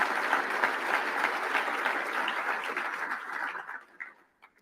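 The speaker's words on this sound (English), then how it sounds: "huge round of applause for them." A crowd at a soccer hall of fame induction ceremony gives a warm round of applause, thick and steady for several seconds before thinning out to a few scattered final claps.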